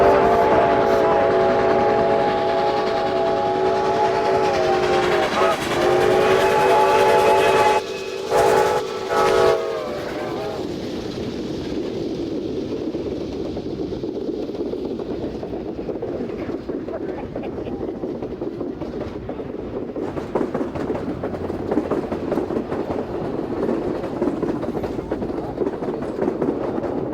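A train on a photo run-by sounds a whistle blast at the start, then chugs steadily past close by with a continuous heavy rumble and clatter.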